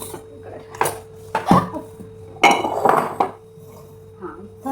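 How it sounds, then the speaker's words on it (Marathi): Used dinner dishes and steel utensils being set down in a rural Kolhapur home kitchen, several separate clanks and clinks of metal and crockery at an irregular pace, close and fairly loud against a quiet background hum. "इथं जेवण केलेले भांडे ठेवूया"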